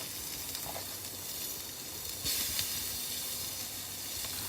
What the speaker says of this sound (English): I'm going to throw in, I've got 1/2 of an onion diced